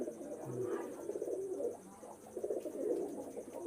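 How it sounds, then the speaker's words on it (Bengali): Firozpuri pigeons coo in low, soft, repeated phrases, several birds overlapping at close range with a steady murmur of cooing running through the whole stretch. "এটা হচ্ছে ফিরোজপুরি কবুতর"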